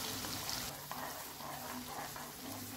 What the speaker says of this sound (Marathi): आता कांद्याची पेस्ट छान तळून घ्यायची आहे।